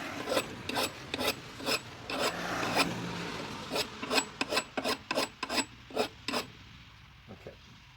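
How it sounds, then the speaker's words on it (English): Hand file sharpening an axe blade, close rasping strokes in a steady rhythm, a dozen or more distinct scrapes that grow shorter and quicker toward the end. "Always file in the same direction."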